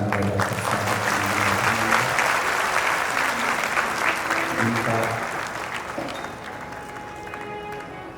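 Loud, sustained applause from a large audience at a Shiv Mahapuran religious discourse gathering in India, steady dense clapping that tapers slightly toward the end, with a voice speaking briefly over it.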